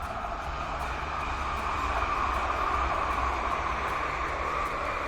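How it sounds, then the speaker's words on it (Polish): Continuous low rumble and broad rushing roar of a train passing at some distance near a forest, steady throughout with no voices. "pociągi też śmigają"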